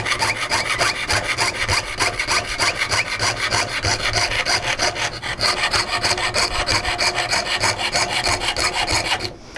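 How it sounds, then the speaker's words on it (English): A jeweler's saw cuts through metal for a tab set pendant with a fast, steady, rasping back-and-forth stroke that continues loud and close without pause. "sawing on the inside."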